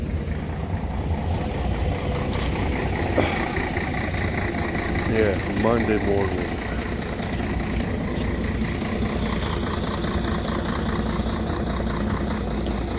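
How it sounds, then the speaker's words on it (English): Bus engines idle and rumble along a street before dawn on a Monday morning, with a brief air brake hiss midway; a person speaks over the steady traffic drone. "buses"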